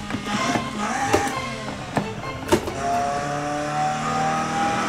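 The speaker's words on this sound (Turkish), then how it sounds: "Bayağı bağırtma şu arabayı ya." A Peugeot 106 GTI engine revving hard and straining under acceleration while driving, a loud continuous roar with rising and falling pitch and a few sharp transients, heard close with no talk.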